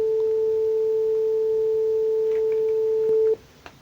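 A digitally generated pure sine tone, five seconds long, sampled at 1000 Hz, holds a single steady pitch with a faint overtone, then cuts off abruptly near the end, leaving quiet background.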